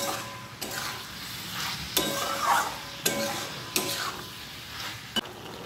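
Jackfruit curry being stir-fried in mutton fat, a spatula scraping and stirring through the pan with a soft sizzle beneath and several sharp clanks against the metal at irregular intervals, close and fairly loud.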